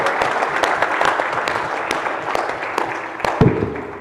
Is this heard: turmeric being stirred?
no